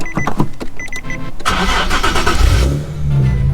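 A car engine with a newly installed clutch cranks in several short bursts, then catches and starts, settling into a loud, steady running rumble close by.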